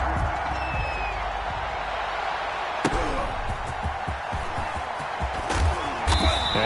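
Home crowd roaring steadily in a PS4 American football game during a playoff matchup, a loud continuous stadium wash with sharp slams and swells, with occasional commentary voices.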